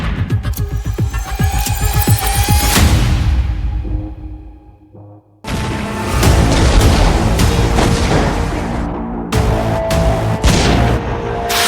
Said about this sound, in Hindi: पुतिन के शाहिद ड्रोन धमाके से उठा बारूदी बवंडर है